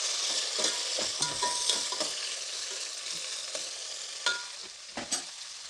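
Onion and tomato cook in a pot for chicken biryani, making a steady sizzle with sharp clicks and scrapes of stirring at irregular moments, near and clear, with no talk.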